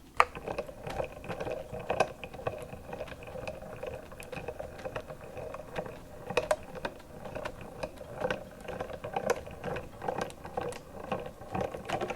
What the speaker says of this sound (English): I'm using the Artisan Explorer. I really like to use this machine for all the dies that are smaller